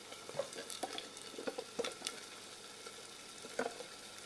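A spice masala fries in a pan with ginger paste and coriander powder for a mutton and jackfruit-seed curry, a faint soft sizzle broken by light scraping stirs.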